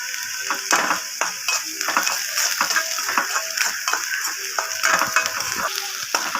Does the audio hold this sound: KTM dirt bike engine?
no